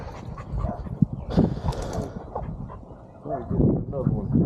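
Belgian dog Madam whimpers and gives short barks during tug play, with voices talking over and around the dog's noises throughout.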